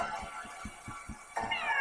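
Repeated synthetic cat meows from the video game Techno Kitten Adventure, a steady run of short mews followed by a brighter, sustained electronic chime, heard clearly with no talking.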